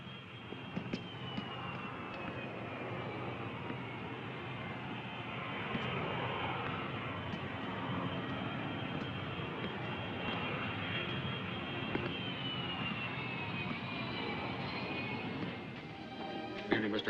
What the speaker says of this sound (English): The plane is ready.